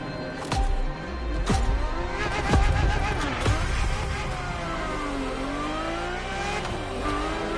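A Ferrari F50 engine revs hard and loud, with several sharp throttle blips and rising, falling pitch sweeps over a sustained close-up roar.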